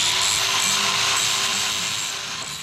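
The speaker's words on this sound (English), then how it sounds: "Just an old 80 grit flappy disc, so a worn one." A worn 80 grit flap disc on an angle grinder buffs metal parts during a Toyota Hilux N70 build, giving a steady, loud, continuous abrasive whine and hiss that fades slightly toward the end, with no talking.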